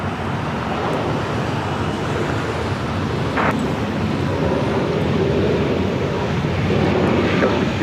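A JetBlue airliner rolls down runway 7 left at LAX in rough, windy weather, its engine roar a steady distant rumble mixed with heavy wind noise on the microphone throughout.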